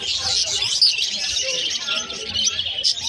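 Frillback crested pigeons at a Philippine bird seller's stall, heard amid a busy mix of chirps and tweets from many caged birds, with sharp high calls scattered throughout.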